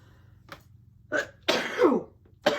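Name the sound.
sneeze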